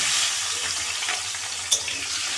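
Boiled elephant foot yam frying in a pan of hot oil, a steady bright sizzle with a small sharp pop partway through, close and alone without talk.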